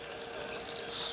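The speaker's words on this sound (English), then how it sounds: "Indian silverbills feeding on our bird feeder." Indian silverbills at a backyard bird feeder give faint, high chirps in a quick irregular series over a steady soft background, with no voices.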